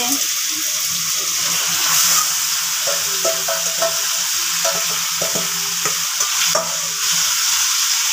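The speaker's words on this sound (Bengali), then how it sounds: "চিকেন দেওয়া হচ্ছে কড়াইতে" Chicken pieces sizzle in a hot wok (kadai), a loud continuous frying hiss with repeated scraping stirs and clinks close by, alongside faint background noise.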